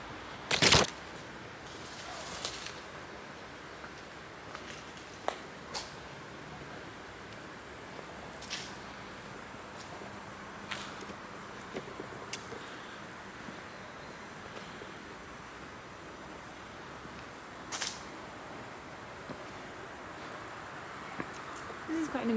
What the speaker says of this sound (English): the crickets are quite loud here